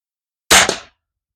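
A single sharp, loud rifle shot rings out nearby from a Springfield Armory M1A Underlever, a hard crack with a brief decaying tail, then silence.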